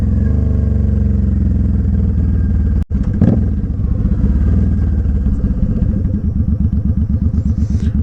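A motorcycle is ridden with its engine droning loud and close throughout, with a brief cut in the sound partway through before the steady throb resumes with wind rush.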